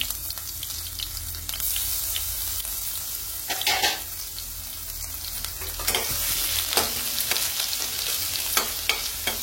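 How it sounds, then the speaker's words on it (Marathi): Mustard seeds, crushed garlic and ginger frying in oil, a continuous sizzle with intermittent stirring and scraping sounds and a few sharper pops, close and unaccompanied by speech. "त्याच तेलामध्ये आपण मोहरी टाकून घेऊ आणि लसण आणि अद्रक असा कुटलेला आहे तो पण टाकू।"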